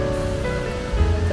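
A river flowing beside a mosque in Puncak, West Java, heard as a steady, loud broadband rush of moving water, continuous and close, with no speech over it.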